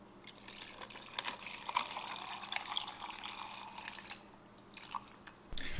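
Tequila pours into a margarita shaker filled with ice: a soft, steady liquid trickle with light drips, fairly quiet and close, ending with a slight clatter.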